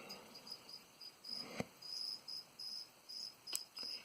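A cricket chirps inside a reptile enclosure at a feeding, faint but clear in short repeated trills with brief pauses, accompanied by a couple of soft clicks and no voices.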